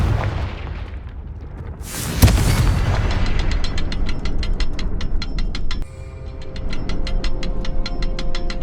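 A Confringo fire-spell blast from the Hogwarts Legacy game on PS5 bursts loudly at about two seconds, followed by steady rumbling battle noise and a long run of rapid, evenly spaced clicking or ratcheting pulses with no talk.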